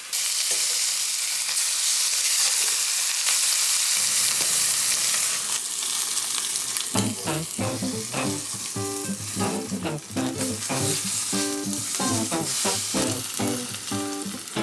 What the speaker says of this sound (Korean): 마이야르 반응이 충분히 일어나도록 골고루 뒤집어가면서 색을 내주세요.